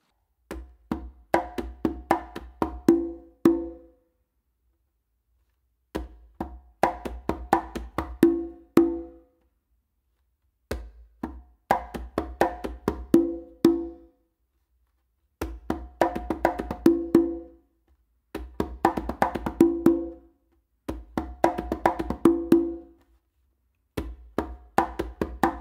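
Congas playing a slow tumbao pattern with bass finger tones and close slaps, in six separate phrases with short silences between them, crisp and close with no voices.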